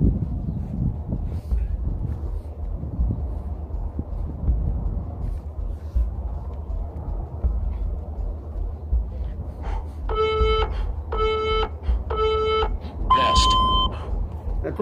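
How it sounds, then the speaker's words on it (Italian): A workout interval timer app for a ten-minute bodyweight Tabata circuit sounds three evenly spaced tonal beeps followed by a higher final beep, moderately loud over a quiet room murmur. "vedete, il timer riparte."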